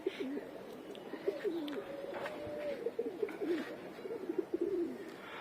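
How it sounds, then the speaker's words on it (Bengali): Pigeons cooing in a repeated, low warbling series with a few soft chirps, fairly close and steady over a faint outdoor background; the males are in flight nearby. "তো নরগুলো উড়ুক, চলুন সেই ফাঁকে আমার বাকি কবুতরগুলো একটু দেখে নিই।"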